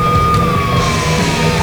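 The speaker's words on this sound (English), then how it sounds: "Oh, right, this is a police car." In the Saints Row video game, a police car's siren wails continuously and loudly with a slowly falling pitch, over the rumble of the car's engine.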